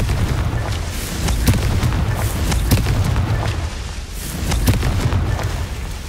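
Repeated Confringo blasting spell explosions from Hogwarts Legacy, a string of loud, deep booms with sharp cracks spread across the stretch, rumbling continuously between bursts, close and powerful.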